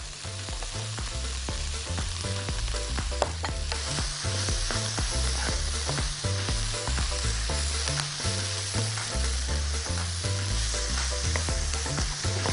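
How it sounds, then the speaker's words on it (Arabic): Cabbage and mixed vegetables stir-frying in a hot pan for Chinese-style rice with chicken, a continuous loud sizzle with repeated scraping and tossing of the stirring utensil throughout. "انا بقلب كويس اهو، والطاسة سخنة، بنزل الخضار واحدة واحدة"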